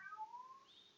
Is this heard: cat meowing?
yes